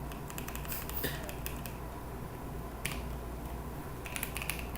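Light clicks of typing on a home-built computer keyboard with a fault that registers the same key twice, faint and scattered at an uneven rhythm over low steady room hum, with no one speaking.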